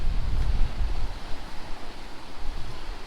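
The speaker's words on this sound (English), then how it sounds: "the waves coming in" Ocean waves rolling onto a small pebble beach on the Yorkshire coast, a steady broadband wash with low rumbling surges and some wind, no voices.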